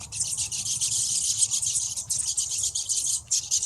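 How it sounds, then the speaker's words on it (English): A mixed-species flock of birds mobs a predator, a dense, continuous chorus of high chattering chirps and calls, busy and fairly close. "got birds to make mobbing sounds"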